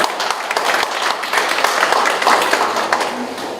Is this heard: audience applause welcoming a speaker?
yes